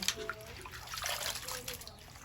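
Ridge gourd peels are rinsed in water by hand, giving soft sloshing and trickling splashes up close, with a faint voice underneath.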